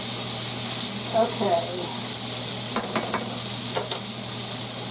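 White beans and sausage sizzle in a skillet over medium heat, giving a steady soft frying hiss with a few spoon scrapes and stirring clicks; a voice speaks briefly nearby.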